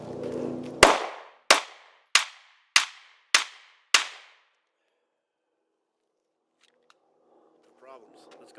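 Six sharp pistol shots from an M&P Shield fired at a man-sized silhouette target at 15 yards, evenly spaced about half a second apart, loud and close, followed by silence and faint rustling.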